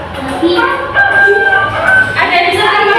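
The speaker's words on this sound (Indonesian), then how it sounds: "Suara ayam." A rooster crows in a classroom animal-sound guessing game, its drawn-out call playing under a teacher's voice asking the children a question.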